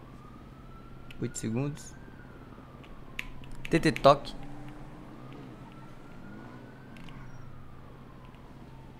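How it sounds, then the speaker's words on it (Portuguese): A faint ambulance siren wails steadily in the distance, rising and falling slowly beneath nearby talking and a few sharp clicks. "eu tô escutando sirene aqui, velho. Isso é de ambulância, né?"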